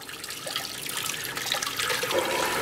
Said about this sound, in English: we're going to peel the skins off with running cold water